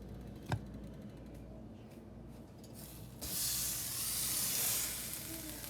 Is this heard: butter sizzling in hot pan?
yes